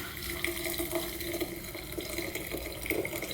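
Arabic coffee poured from a flask and strained through a tea strainer, a steady close trickle of liquid splashing for several seconds without pause, alone with no talk.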